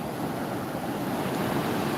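Ocean waves wash onto a beach in a dense, continuous roar of surf with some wind buffeting the microphone, loud and close, with no voices.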